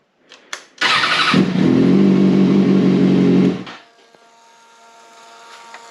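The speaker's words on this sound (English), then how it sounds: "I need to start the bike up." A motorcycle engine cranks and catches, then runs at a loud, steady idle for close range for about three seconds before shutting off, leaving a faint hum.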